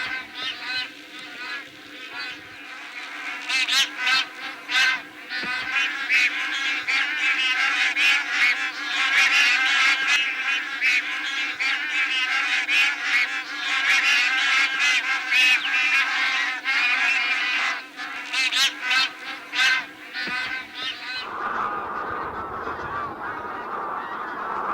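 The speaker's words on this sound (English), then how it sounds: "The park resonates with the calls of bar-headed and grey-lag geese" A large flock of bar-headed and greylag geese honking continuously and loudly in Keoladeo National Park, overlapping calls filling the air, ending abruptly into softer background noise.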